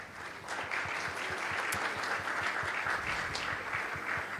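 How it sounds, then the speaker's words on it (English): A conference audience applauds panelists in a hall, producing a sustained, dense clapping that holds steady at close range, with a faint rhythmic thump underneath. No one speaks over it. "Let's give them another round of applause."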